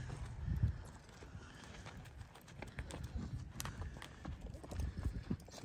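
Hooves thud in a steady jogging rhythm as a horse is ridden bareback, fairly close and soft, with low rumbling footfalls repeating throughout.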